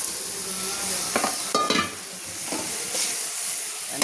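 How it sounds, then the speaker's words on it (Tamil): Okra tossed into a pan of fried, softened tomatoes: a constant close sizzle with a few sharp scrapes and clatters of stirring against the pan. "இந்த மாதிரி நல்ல தக்காளியெல்லாம் நல்லா நசுங்கி நல்லா ஃப்ரை ஆனதுக்கப்புறம் வெண்டைக்காயை போடுங்க."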